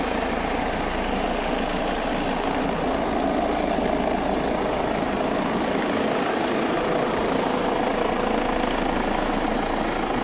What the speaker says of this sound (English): What is this helicopter right here?